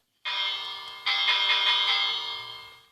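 An electric school bell rings loudly in two bursts, a short first ring and then a longer sustained one that slowly fades, with no talking.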